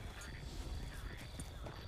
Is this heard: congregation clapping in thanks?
no